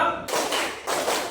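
In a classroom, a group of students claps hands in a counted pattern. Two loud, close bursts of many hands fall in separate rhythmic beats, each with a short decay.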